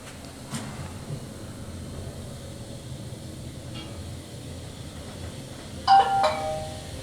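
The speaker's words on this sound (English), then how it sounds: "Oh, that's my phone." A mobile phone gives a short bright notification chime, a pair of quick tones near the end, heard alone over the low hum inside a small hydraulic lift at a Gatwick Airport North Terminal car park.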